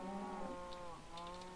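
Cows low in a Minecraft farm pen, a couple of short, steady moos close by with a faint higher bleat near the end, no voices.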